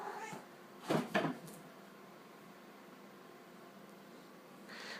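A pet cat meows twice in quick succession, close and fairly clear in a quiet room, with faint rustling after.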